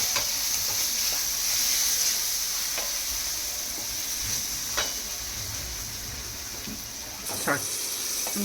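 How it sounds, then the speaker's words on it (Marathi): Coriander-garlic paste hits golden fried onions in a pan for an urad dal dish, giving a steady close sizzling hiss with occasional scraping clicks from stirring. "भाजलाय कांदा. त्याच्यामध्ये थोडंसं हे टाकायचं, कोथिंबीर आणि लसणाची पेस्ट केलेली होती मी, ते टाकली."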